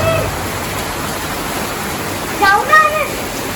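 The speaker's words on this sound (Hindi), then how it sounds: "देखो तेज बारिश आ रही तेज" Heavy rain pours steadily outside as a broad, constant hiss, with voices briefly talking over it near the end.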